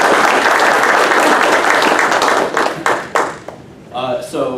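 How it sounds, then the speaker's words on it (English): A room of event attendees gives a sustained round of applause, dense clapping that fills the space before thinning into scattered claps at the end, with voices briefly rising as it fades. "can everyone give a big round of applause to Lynn for setting this event up?"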